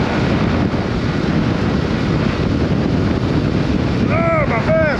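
Strong storm wind buffeting a microphone during a motorbike ride out in Storm Ashley, a constant loud roaring rumble throughout, with a brief whistling tone near the end.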